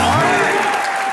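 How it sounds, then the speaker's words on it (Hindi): A television comedy show's studio audience applauds, loud and dense clapping filling the whole brief moment, with a voice heard over it. "ठोको एक बार ओरिजिनल सिद्धू बाजी के लिए तालियां।"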